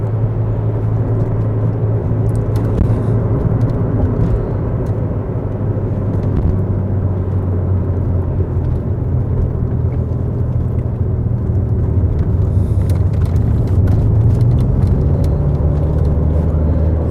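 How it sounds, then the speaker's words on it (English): A SAAB 9000 Turbo Classic on the freeway drones with a steady, loud engine and road rumble from inside the car, its pitch slowly climbing near the end as the turbo comes in under acceleration. "You can probably hear when the car pulls up, the turbo kicks in."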